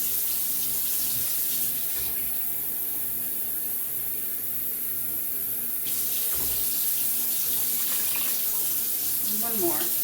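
Water runs in a steady rushing stream into a crockpot of chicken soup made from a leftover rotisserie chicken carcass and canned mixed vegetables, pausing briefly partway through before resuming, close and continuous.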